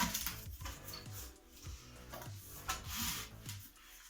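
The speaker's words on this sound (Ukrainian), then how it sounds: "починаємо нашу розпаковку" A Kraft&Dele KD10195 circular saw is unboxed, with close, quiet rustling, rubbing and tapping of cardboard and packaging in uneven bursts and no talking.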